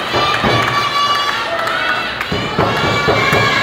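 A crowd at a live wrestling match at a shopping mall cheers and shouts, a steady roar of voices with children's calls and thuds from the ring, while a commentator talks over it.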